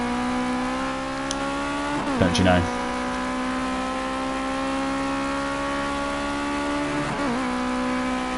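A 2.2-ton pickup truck's engine in Project Cars 2 drones steadily at high revs, rising slowly in pitch over a racing lap, with a brief burst of tire and impact noise and a short spoken phrase over it.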